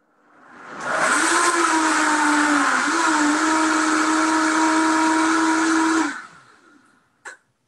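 Vitamix high-powered blender blending bean soup roars up after a second into a loud, steady, whining whir with a constant pitch, holds for about five seconds, then winds down, followed by a brief click.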